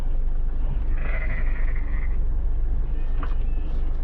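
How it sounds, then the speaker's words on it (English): A sheep near a beehive apiary bleats once in a long wavering call over steady low rumble and background noise, with a faint short sound near the end. "Oh, we can hear sheep maring."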